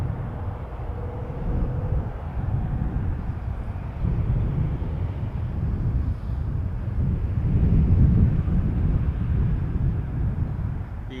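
An MD-11 jet airliner coming in at Toronto Pearson gives a broad, distant rumble that swells gently and carries faint wind noise, with no talk.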